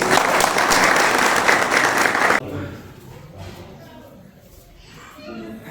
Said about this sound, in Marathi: सर्वांनी एकदा टाळ्या वाजवून